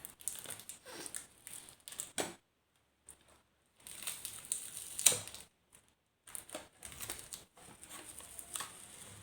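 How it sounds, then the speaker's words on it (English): Masking tape peeled off a painting gives close, crackly tearing bursts in uneven pulls, separated by silent gaps. No voices are present. "So let's peel off the masking tape."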